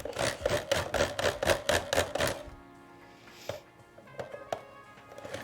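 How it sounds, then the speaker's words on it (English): Rapid rhythmic scraping and grinding bursts of cheese being grated with a rotary grater, loud and close, then stopping into quieter clinks and faint handling noises. "I heard cheese being grated and came running."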